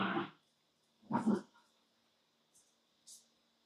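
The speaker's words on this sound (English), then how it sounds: "I'm just watching these doggos shenaniganizing." Dogs playing, with two short growling bursts close by and a couple of faint higher yips, in an otherwise quiet room.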